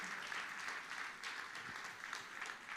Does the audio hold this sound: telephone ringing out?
no